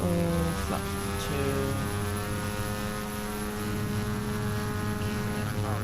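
A propeller aircraft engine in Flight Simulator X drones steadily at full throttle on takeoff, a loud, even hum with layered harmonic tones and no break.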